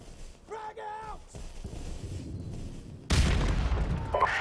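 Frag grenade blast in Call of Duty MWR: after a brief shouted voice and background battle noise, a sudden loud boom erupts and rumbles on.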